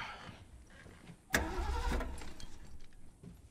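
A car in the video game The Last of Us, its battery drained, cranks and sputters briefly after a sharp click, a short rumbling turnover that fades into dull background noise, fairly quiet.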